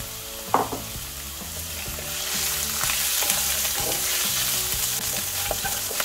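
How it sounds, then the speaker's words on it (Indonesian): Bok choy stir-frying with garlic in a pan over the heat, a loud continuous sizzle with scraping stir strokes and a sharp clatter near the start, steady throughout without talk. "Lalu kita masukkan boy choy-nya ya, setelah bawang putihnya harum ya."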